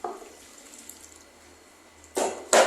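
Water trickles softly in the background, then two loud splashing gushes arrive near the end as warm water rinses conditioner out of a braided lace wig.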